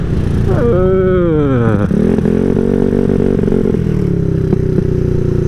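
A Honda Ruckus scooter engine with the choke on fires up close by, its pitch sweeping up and down through a few revs before it settles into a steady, even idle.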